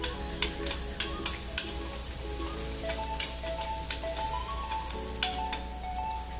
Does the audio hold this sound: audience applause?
no